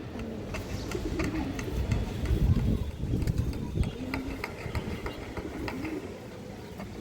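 Black Dobaj pigeons, a male and a female, give low rolling coos several times over steady ambient noise, the calls close and moderately loud.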